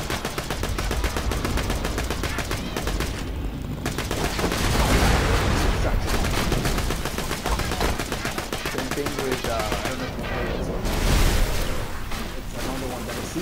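Heavy weapons in Borderlands fire in rapid automatic bursts, a dense, loud rattle of gunfire with a few swelling blasts, continuing for over thirteen seconds.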